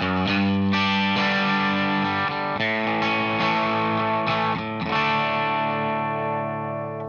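An overdriven electric guitar with effects plays a song's verse chord progression, full strummed chords changing every couple of seconds, loud and alone with no voices, the last chord left ringing.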